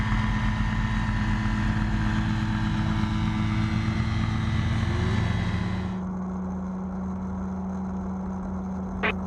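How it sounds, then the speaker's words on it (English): A Challenger II light sport aircraft on its takeoff run, with a loud steady propeller engine drone whose pitch shifts as the aircraft accelerates and lifts off, then settles into a lower hum. "All right, Wes, we're taking off to the east."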